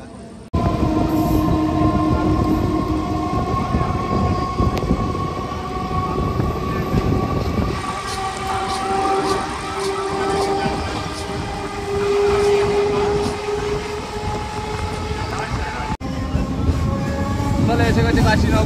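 A local passenger train running from Sealdah toward Namkhana rumbles and rattles loudly and steadily, with sustained humming tones and carriage clatter. Voices murmur faintly beneath it.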